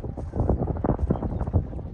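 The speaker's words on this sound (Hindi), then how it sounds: "बहुत ही तेज हवा है" Strong wind gusting outdoors during a kite-flying match in Howrah, buffeting the microphone with a steady, close, rumbling roar that swells and dips throughout, with no clear talk.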